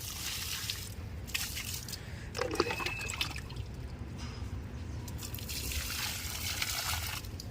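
Water is poured onto soil in potted plants, giving a continuous soft trickle and splash with occasional drips. Faint outdoor background sits under the sound, and no voices are heard.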